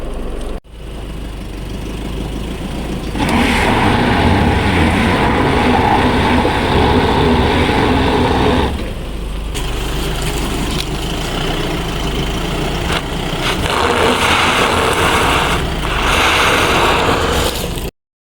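An Isuzu Spark 4x4 pickup's engine drones loudly as it climbs a hill on rough terrain, with revs rising and falling and brief dips in the throttle over about eighteen seconds.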